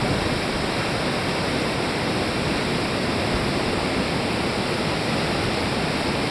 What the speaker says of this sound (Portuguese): De novo a cachoeira.